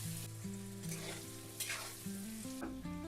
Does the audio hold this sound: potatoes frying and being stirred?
yes